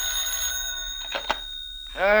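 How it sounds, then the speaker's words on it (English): An office telephone in a 1949 radio drama rings with a bright, sustained electric bell tone, broken briefly by faint clatter before a voice begins at the end. "the office phone opened up"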